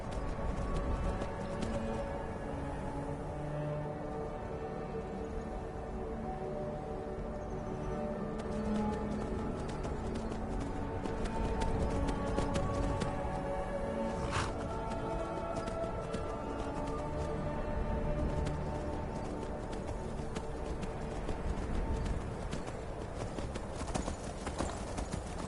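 A horse gallops in the Skyrim video game, its hooves drumming out a fast, steady clip-clop rhythm that carries on evenly for the whole stretch over a constant background bed.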